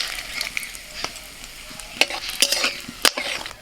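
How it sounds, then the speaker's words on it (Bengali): Whole cardamom, cinnamon, cloves and bay leaf hit hot oil with foaming sugar, hissing steadily and throwing sharp, close crackles and pops that grow busier toward the end. "সেই সময় আমি ফোড়ন দিয়ে দিচ্ছি এলাচ দারচিনি লবঙ্গ আর তেজপাতা"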